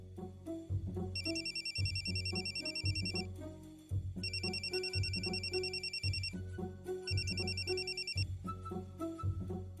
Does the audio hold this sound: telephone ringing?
yes